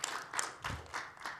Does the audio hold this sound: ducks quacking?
no